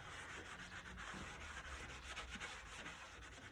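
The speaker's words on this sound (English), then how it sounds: "Give it a really good scrub." A mirror frame is scrubbed clean by hand with quick, repeated rubbing strokes, close and fairly quiet, forming a continuous scratchy texture with no voices.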